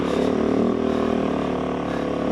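A Kove 450 Rally adventure motorcycle engine revs near and loud, a rough, busy roar that swells briefly and then settles into a steady run.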